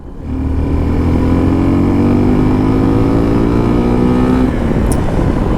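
A Suzuki V-Strom SX 250 motorcycle engine after a downshift into third gear, a loud, steady, close droning hum whose pitch climbs gradually as it revs, then eases off near the end.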